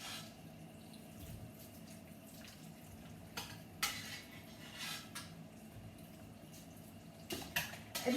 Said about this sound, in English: cold water is coming down on them